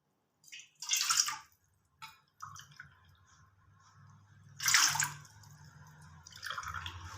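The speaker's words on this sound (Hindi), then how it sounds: "ये देखिए 3 कप मैंने पानी डाल दिया है।" Water is poured into a pot to make ginger and cinnamon kahwa, arriving in several separate splashing bursts between quieter pauses. It sounds close and the level is modest.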